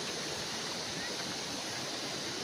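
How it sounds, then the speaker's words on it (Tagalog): A river in Bernad, Clarin, Misamis Occidental, Mindanao, rushing over large rocks, giving a steady, close, broadband wash of flowing water with no pauses. "Itong ilog na to guys"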